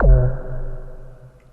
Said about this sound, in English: It's a sort of a thump, but it does have this reverb tail at the end of it